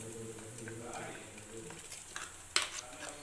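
A ground rice and lentil paste is stirred into simmering buttermilk curry in a pot, giving a soft bubbling sizzle and quiet scraping stir, then a sharp clink of utensil against the pot near the end, over low room noise.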